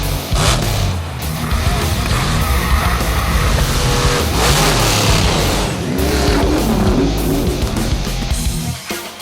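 Several Stadium Super Trucks racing together at Crandon, their engines roaring loud and continuous with revving surges and tire noise throughout, no voices.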